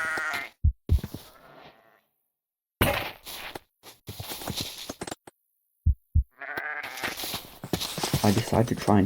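Sheep bleating in a multiplayer survival video game, several short bleats between pauses, with people talking over and around them.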